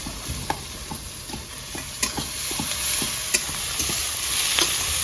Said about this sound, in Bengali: পুরো পেঁয়াজটা আমার ভাজা হয়ে গেছে